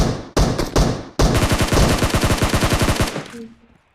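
Gunfire in the mobile battle royale game PUBG Mobile, beginning with a few loud separate shots and short bursts, then a long rapid automatic volley up close before it cuts off, with a faint tone trailing after.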